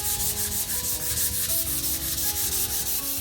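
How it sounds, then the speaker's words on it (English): Steady hand sanding along the edge of a painted wooden sign, a continuous close rasping rub with regular back-and-forth strokes and no talking. "give that a sand, really making sure you're hitting that edge"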